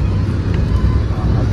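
Steady low road rumble of a car on a road trip to Trimbakeshwar, one of three cars carrying office friends, droning continuously and evenly with no talk.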